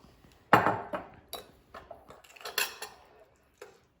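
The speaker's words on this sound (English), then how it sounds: "we're gonna take the butter and mix that into the bananas" Butter worked into mashed bananas in a bowl for no-sugar-added banana bread, heard as a few close, irregular clinks and scrapes of a utensil against the bowl with brief pauses between them.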